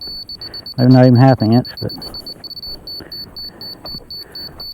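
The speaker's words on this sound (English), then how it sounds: "here's this thing beeping all the way across through here" A grade laser receiver's rapid electronic beeping pulses steadily throughout, with someone talking over it partway through.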